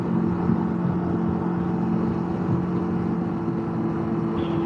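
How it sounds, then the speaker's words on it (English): A Can-Am Ryker three-wheeled motorcycle's exhaust drones steadily and loudly at cruising speed on a Texas highway, a continuous engine hum with wind rush and no break. "Oh my god, I don't like this exhaust. Yeah, exhaust is a little obnoxious."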